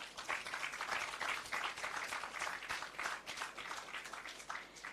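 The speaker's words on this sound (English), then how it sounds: "So I think we should start off by giving RPJ a round of applause." A crowd applauds steadily at a recycling plant opening ceremony, dense clapping from many hands that stays loud and even throughout without a pause.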